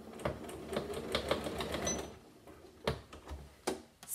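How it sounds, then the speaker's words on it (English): A sewing machine making an odd noise after a broken needle: uneven mechanical clicks and thumps with whirring between them, close and moderately loud, with no talking. "My machine is making a funny noise since I broke that needle."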